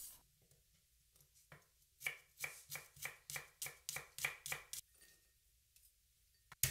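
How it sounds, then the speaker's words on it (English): A knife slices four shallots on a cutting board, giving a quick run of about ten crisp, evenly spaced chops up close, with a few softer taps before and after and no talking. "Slice four shallots."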